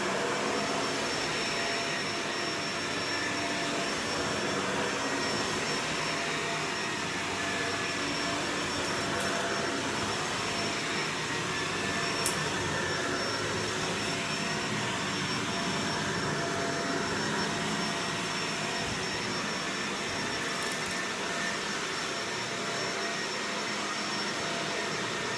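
A vacuum cleaner pre-vacuums carpet that had been stored in a warehouse, ahead of orbital low-moisture cleaning; its steady, loud whooshing drone runs unbroken throughout with no talking.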